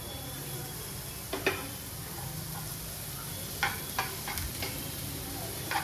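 Chopped onion and tomato fry with a soft continuous sizzle on a tawa, broken by a few sharp scraping and tapping strokes as the vegetables are stirred.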